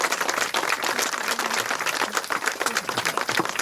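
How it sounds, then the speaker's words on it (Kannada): A crowd of listeners claps in sustained, dense applause at a launch event for a new skill-training centre run by Samrakshana with United Way Bengaluru, loud and steady throughout with no voices over it. "ನೀವೆಲ್ಲರೂ ಒಂದು ಚಪ್ಪಾಳೆ ತಟ್ಟುವ ಮೂಲಕ ಅವ್ರಿಗೆ ಥ್ಯಾಂಕ್ಸ್ ಹೇಳಬೇಕು"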